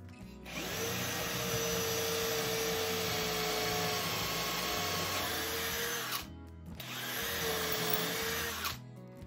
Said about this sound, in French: Percer dans la table.